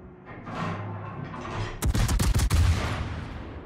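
Ship guns firing in World of Warships, a tight cluster of loud booming shots close together after a quieter stretch of engine and sea rumble, with a heavy low roar trailing off.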